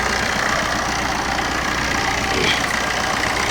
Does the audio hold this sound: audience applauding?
no